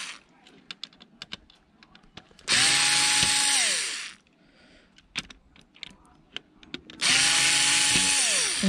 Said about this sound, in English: Just basically going to take off all the screws I can see.